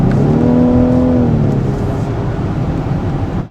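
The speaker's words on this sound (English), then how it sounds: "we've allowed for the first time in a Rolls-Royce a little bit of exhaust" A 2014 Rolls-Royce Wraith V12 pulls hard under acceleration, its engine and exhaust note rising as a loud continuous rumble with a climbing tone, heard from close by with no voices.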